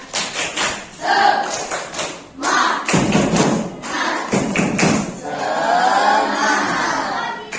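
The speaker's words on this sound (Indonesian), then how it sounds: "Tepuk semangat." Students in a classroom perform a rhythmic spirit clap, a series of sharp claps and thumps in quick patterned bursts with shouted voices mixed in, loud and close.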